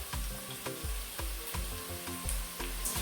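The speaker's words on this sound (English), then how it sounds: "You see, our onions are cooking very well." Onions frying in a pan sizzle steadily up close, with a rhythmic series of soft scraping stirs cutting through the crackle.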